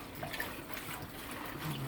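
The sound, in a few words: tap water running while washing callaloo leaves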